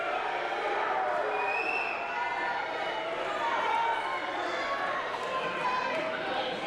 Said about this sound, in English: The crowd wants justice.